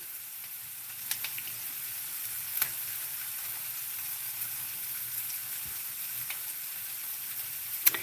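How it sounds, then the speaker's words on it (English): Onions sizzling steadily in a hot pan alongside cooking pasta, a continuous close hiss with occasional small pops and crackles, no talking. "we have the onions cooking"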